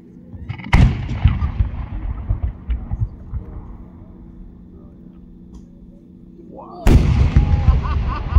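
An 8-inch ball shell firework with red, white and blue stars and silver comets bursts in a loud, sharp boom, then crackles away, and a second heavy burst follows near the end.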